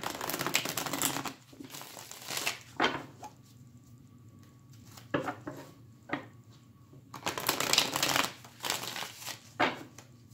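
Tarot cards riffle and slap together in several bursts of close crinkly shuffling, with quieter gaps between, near and clear.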